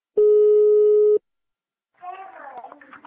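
A telephone call tone during a prank call, a single steady one-second beep heard clearly on its own, followed by a pause and then a voice speaking over the line.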